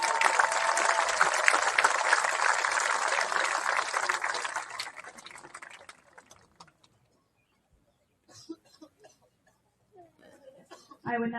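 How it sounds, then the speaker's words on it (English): A graduation ceremony crowd at Caledonia-Mumford's 2026 graduation gives a round of applause, loud and full for several seconds before tapering off, followed by quiet with scattered speech. "So another round of applause for that."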